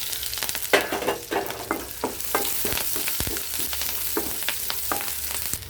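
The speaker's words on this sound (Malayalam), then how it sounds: "അതിലേക്ക് നമുക്ക് സവാളയും പച്ചമുളകും കറിവേപ്പിലയും കൂടി ഇട്ട് കൊടുക്കും." Chopped onion, green chillies and curry leaves fry in a hot pan for a curry, giving a steady close sizzle with scattered crackles and pops. Stirring scrapes come through now and then, and no one speaks.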